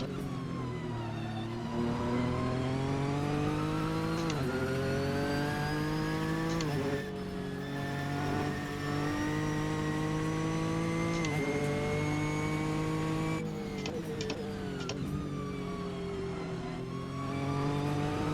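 A Nissan GT-R GT3 race car engine in a racing game at Road America, droning loud and steady, with revs climbing through the gears and short dips at each shift, and no talk over it.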